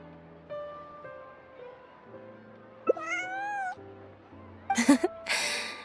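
A cat in the game Genshin Impact meows several times in short, rising mewling calls over soft background music. A pair of brighter, breathy cries follows near the end.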